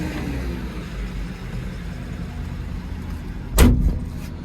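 A construction machine's cab door, opened with the door release, gives one short, sharp clunk near the end, set against a steady background rumble with no talking.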